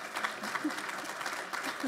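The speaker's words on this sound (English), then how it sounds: "a big round of applause for them" Steady clapping from a group at a horticultural science conference fills the room, dense and continuous, with a few scattered voices mixed in.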